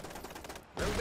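Rifle fire in the strategy game Iron Harvest, a rapid string of short cracks like a burst that cuts off, then a denser swell of battle noise.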